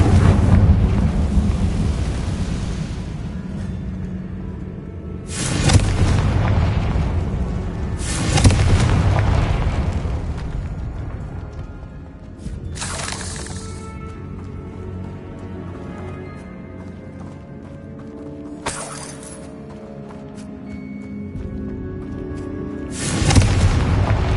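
Confringo fire spell blasts in Hogwarts Legacy, loud booming explosions that recur roughly every few seconds, each with a sharp onset and a rumbling, windy tail.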